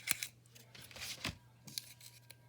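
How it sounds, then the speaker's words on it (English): Scissors snip through the backing of sticky-back vinyl plank flooring in a few quiet, crisp cuts, irregularly spaced, with a low steady hum beneath. "I used scissors to cut this so that I kept most of this"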